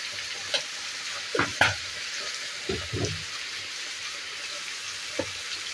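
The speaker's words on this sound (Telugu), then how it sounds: "ఇలా వేసుకొని బాగా ఫ్రై చేసుకున్నాము." About a kilogram of chicken with salt and turmeric fries in a pan for gongura chicken curry: a faint, steady sizzle broken by a few brief scraping stirs.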